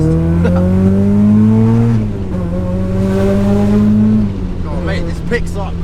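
A supercharged Mazda MX-5 Miata accelerates hard, its engine note climbing through two gear changes in a steady rising drone heard from inside the car, loud and close, with a voice briefly over it.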